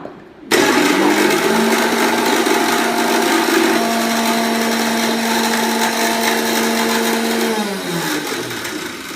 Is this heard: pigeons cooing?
no